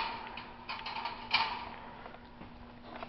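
The main door of a newly set up bird cage creaks open, a short thin squeak with small mechanical clicks, close and fairly quiet.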